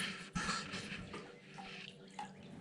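Water running from a tap into a container to mix animal feed in a barn, a steady splashing stream with a few drips and a brief louder gush, fairly quiet and close.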